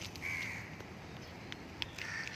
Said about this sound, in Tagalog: Maingay na naman yung mga ibon sa umaga. Mga uwak.